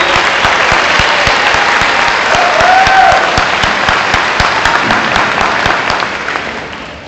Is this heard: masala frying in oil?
no